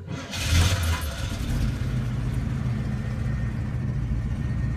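A restored 1979 Pontiac Trans Am turns over and catches, its engine settling into a steady, rumbling idle close by with no talk over it.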